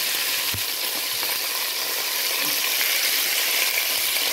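Chicken pieces sizzling and browning in a pan for a creamy white-wine chicken fricassee, a loud, continuous close-up frying hiss with a few light clinks and scrapes from turning the meat.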